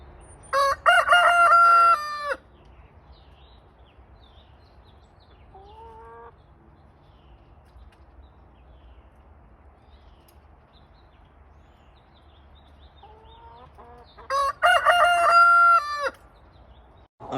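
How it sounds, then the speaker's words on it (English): A rooster named Marshmallow crows loudly twice, near and clear, with a couple of faint clucks in between amid quiet farmyard background. "My rooster Marshmallow finally got crowing down."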